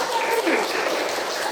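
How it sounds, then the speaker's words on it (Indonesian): Classroom applause, a steady broadband patter of clapping hands filling the short stretch at moderate loudness, with no talk over it. "Ya, betul sekali. Tepuk tangan."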